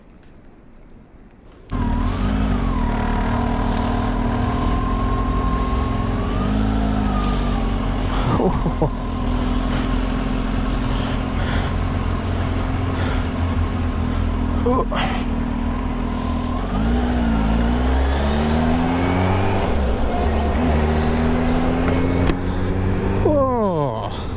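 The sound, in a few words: Kawasaki H2 SX SE motorcycle on a test ride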